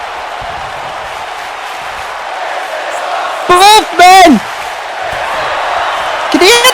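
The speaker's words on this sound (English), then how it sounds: "Can you hear this crowd, by the way?" A crowd cheers and whoops at a wrestling match in the DCA Freefall 2020 event, loud and close, with sharp rising shouts over constant chatter and a man yelling nearby.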